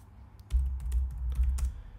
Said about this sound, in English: I'll just type in JS Fiddle.